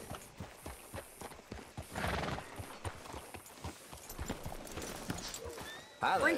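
Steady clip-clop of horse hooves plods along at a walking pace, and a horse whinnies near the end, with faint ambient sounds around, in the video game Red Dead Redemption 2.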